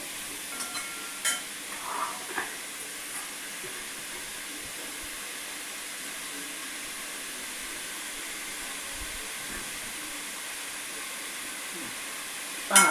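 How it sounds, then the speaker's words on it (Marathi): Mushrooms cook under a lid in a covered pan, releasing their water with a faint, steady, low sizzle that holds evenly throughout with no talking. "आता लागलं पाणी चुरचुर वाजायला त्याचं"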